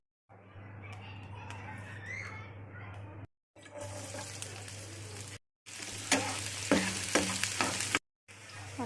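Finely chopped onion sizzles in a hot pan while the tempering for a green bean dish is started. The frying hiss runs steadily through several takes split by brief silences and grows louder and more crackly near the end.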